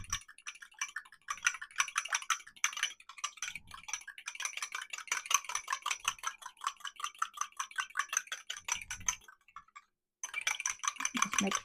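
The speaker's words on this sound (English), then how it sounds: "And I'm going to whisk those together." A whole egg and two tablespoons of milk being whisked by hand for an egg wash on homemade hoagie rolls, a fast steady rattling and clicking of whisk against bowl that pauses briefly near the end, then resumes.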